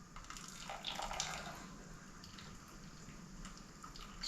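Wort drains from a bag of steeped grains into a small one-gallon pot during home brewing of an Irish red ale. It makes a soft, steady trickle and splash that is faint and continuous.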